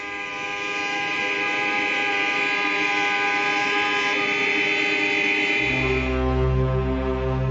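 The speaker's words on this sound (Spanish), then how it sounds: "Después protestan a bocinazos." A crowd of car horns blares in protest on a Berlin street, a loud, unbroken wall of sustained tones. A deeper, heavier horn joins near the end.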